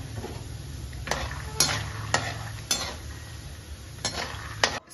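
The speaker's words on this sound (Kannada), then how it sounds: "ಚೆನ್ನಾಗಿ ಎಣ್ಣೆ ಕಾದ್ಮೇಲೆ ಮೊದಲು ಶೇಂಗಾ ಹುರ್ಕೋಬೇಕು" Peanuts frying in hot oil for poha chivda, a steady sizzle running throughout, broken by about six sharp, close metallic scrapes of a spoon stirring against the pan at uneven intervals.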